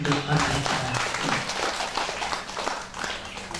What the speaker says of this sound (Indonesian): mari kita berikan aplaus untuk anak-anak